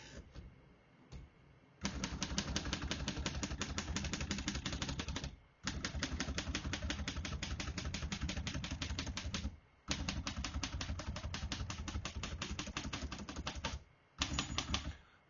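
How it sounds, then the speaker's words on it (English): Fast, steady keystrokes clatter on a 1947 Royal Quiet De Luxe portable typewriter, loud and close, in three long dense bursts broken by short pauses, with a brief spell of typing near the end and no talk. "We're going to keep that on single for now and finish typing."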